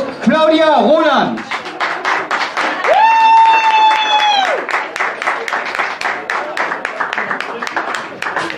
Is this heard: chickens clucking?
no